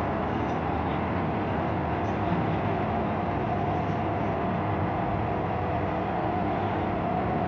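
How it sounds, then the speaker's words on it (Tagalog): A train runs on the tracks below, giving a steady broad rumble and roar that holds evenly from start to finish, heard from above at a distance without any talk. "Ayan, may train sa baba."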